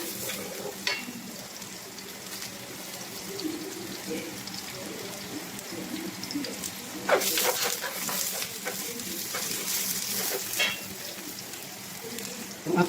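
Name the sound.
sautéing red onion for balatong with beef ribs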